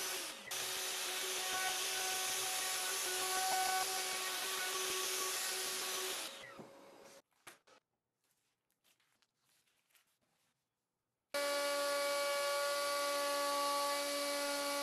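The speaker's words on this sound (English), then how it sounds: "I make my first pass with a top-bearing flush trim bit and take the cut as deep as I can" A large router with a top-bearing flush trim bit cutting wood runs loud and steady with a whining tone, then winds down to near silence before starting up again at full volume.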